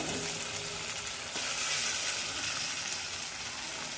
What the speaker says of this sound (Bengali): মশলাটা যখন ভাজা ভাজার মতো হয়ে গেছে, দেখুন একটু একটু তেল ছাড়ছে হালকা হালকা।